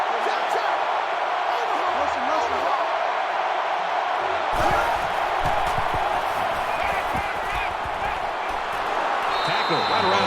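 A packed American football stadium crowd roars continuously at high volume as the home defense pressures the opposing passer, with a voice faintly carried over the din.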